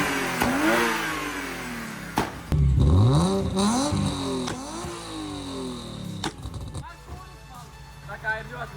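A BMW E36 engine, newly fitted with a replacement head gasket, idles and revs in several sharp bursts that climb and fall, with someone talking between and over the revs.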